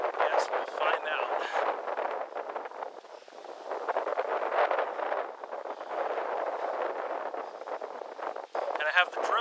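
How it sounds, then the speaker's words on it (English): Strong wind gusting beside a lake near a marina, a constant broadband rush buffeting the microphone for the whole stretch, with a person talking over it. "it's really, really windy outside"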